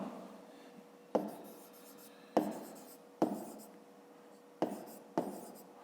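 A pen writes by hand on paper, close up, in several short bursts of scratchy strokes, each starting with a sharp tap and fading out, with quiet gaps between them.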